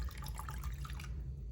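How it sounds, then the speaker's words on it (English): Lemon juice trickles and drips into a chicken marinade in a bowl, a brief close wet pouring patter that stops abruptly near the end. "we're just going to go ahead and add our lemon juice in here"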